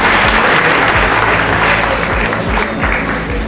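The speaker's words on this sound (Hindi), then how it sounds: "एक बार जोरदार ताली हमारे सम्मानित संजय निरुपम साहब" Loud, sustained applause from a rally crowd for Sanjay Nirupam at a public meeting in Dindoshi, a dense wash of clapping that holds steady throughout with a faint voice underneath.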